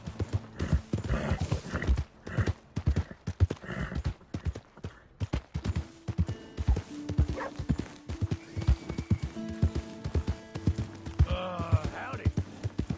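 Rhythmic clip-clop of horse hooves trotting close by in Red Dead Redemption 2, steady throughout, with a horse whinnying briefly near the end.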